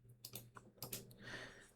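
Keys tapped on a computer keyboard while entering a network reset command in a Windows administrator command prompt, a short burst of quiet, close clicks in an irregular rhythm.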